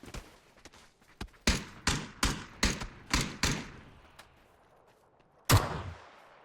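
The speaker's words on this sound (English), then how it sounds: "People are nailing the accuracy here with the burst fire." Burst-fire gunshots from a rifle with a red dot in PUBG, a run of about seven sharp evenly spaced reports with echoing tails, a few faint distant shots, then one more loud crack after a pause.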